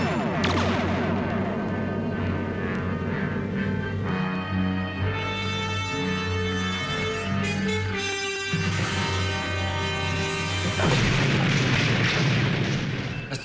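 Star Trek photon torpedoes fire in a wide spread and explode, heard as repeated heavy booms and blasts layered over a dense, loud sci-fi soundscape with music, continuous for the whole stretch and no speech.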